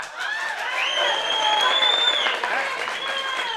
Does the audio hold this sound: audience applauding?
yes